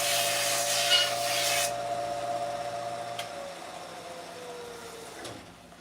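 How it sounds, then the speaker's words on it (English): A wooden knife handle is pressed against a running belt sander, giving a close, steady abrasive rasp over the motor's hum, which then winds down and fades. "take this and hit it on that belt sander in a spot"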